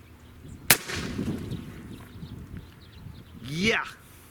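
AEA Harpoon air shotgun firing both barrels at a watermelon, a single sharp close crack followed by a brief rumble, then quiet, with a voice exclaiming afterward.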